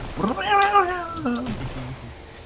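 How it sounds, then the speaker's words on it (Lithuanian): A cat meows in a drawn-out, rising and falling call, close and clear, followed by a softer short mew near the end. "Miau, Zelda."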